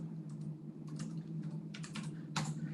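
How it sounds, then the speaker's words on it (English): A password being typed on a computer keyboard at a security system login, heard as scattered bursts of key taps over a steady electrical hum, with no talking. "If I type my password incorrectly,"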